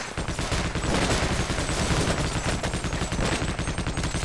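Rapid sniper rifle shots ring out in Half-Life: Opposing Force, a dense, loud burst of repeated gunfire close up with no talking over it.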